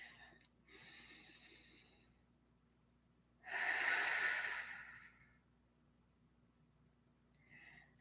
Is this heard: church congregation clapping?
no